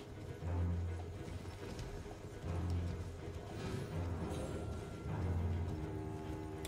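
Horse hooves clip-clop in the video game Elden Ring, a steady rhythmic trot in short bursts over background game music and ambience.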